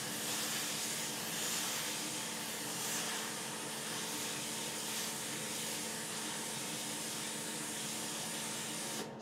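Steady, loud hiss of steam from a Laurastar steam iron on an ironing system with a fan, continuous and unbroken from start to finish.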